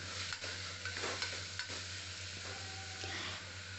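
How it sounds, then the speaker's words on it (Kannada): Peeled, cut potatoes fry in oil in a pan for potato sagu, a soft steady sizzle broken by several scraping stir strokes, faint and close with no talking. "ಆಲೂಗೆಡ್ಡೆನ ಎಣ್ಣೆನಲ್ಲೇ 1 ನಿಮಿಷ ನಾನು ಫ್ರೈ ಮಾಡ್ಕೊತಾ ಇದ್ದೀನಿ"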